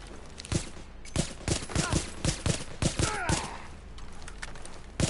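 Repeated gunfire bursts and shots in the video game Tom Clancy's The Division, a sidearm-only fight over supplies, sharp and fairly close, spaced irregularly across the clip with faint voices mixed in.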